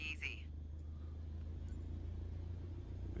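Steady low engine rumble from an aircraft throttling up to taxi in Microsoft Flight Simulator, droning continuously and fairly quiet, with a brief faint chirp near the start.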